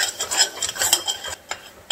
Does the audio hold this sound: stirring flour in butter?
yes